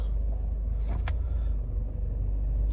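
A 2017 Ford Kuga 2.0 TDCi 180PS diesel settles into idle after starting, a close steady low rumble with a short mechanical whir near the start and no voices.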